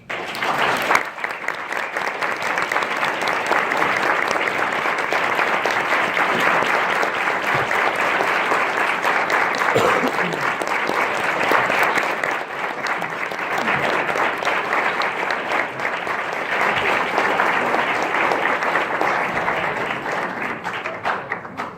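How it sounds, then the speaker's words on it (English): Sustained audience applause following the close of a political speech at an emerging leaders conference, dense and steady clapping from a large crowd lasting throughout without a break. "We need another round of applause for that."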